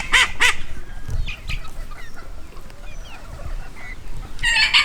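Escaped chickens and a Muscovy duck loose in a garden, giving a few loud clucks and squawks near the start and again at the end, with scattered softer fowl calls and rustling in between.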